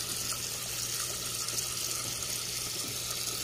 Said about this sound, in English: As you can see, there's water flowing there.